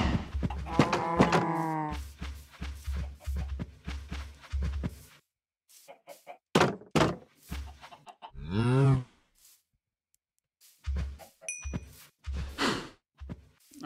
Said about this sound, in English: I think it's about time to go find some cows.